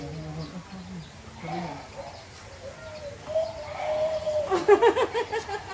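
A bird at a zoo gives soft, low cooing calls, then a louder rapid series of notes, with faint voices in the background.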